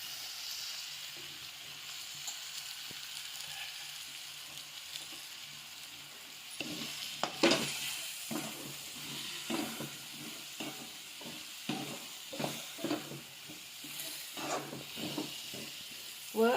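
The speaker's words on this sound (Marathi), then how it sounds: "याला चांगलं व्यवस्थित हलवून घ्यायचं आहे. एकजीव करून घ्यायचा आहे याला" Soya chunks and potatoes fry in a pan under a soft, steady sizzle, and a spoon scrapes and stirs in irregular bursts during the second half. It is quiet and close, with no voices.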